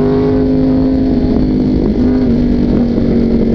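A Yamaha R1 sports motorcycle, fitted with an OC Racing exhaust, runs loud and close while being ridden, its engine holding a steady, droning tone with a slight dip partway through and no voices.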